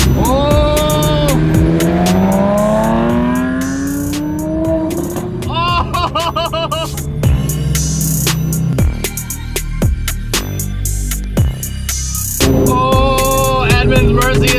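A Lamborghini Aventador SVJ close by, its engine rising and falling through loud revs and gear changes, with tire noise and other cars passing amid people talking.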